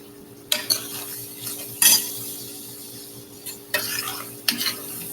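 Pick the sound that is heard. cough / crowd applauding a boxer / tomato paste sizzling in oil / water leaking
tomato paste sizzling in oil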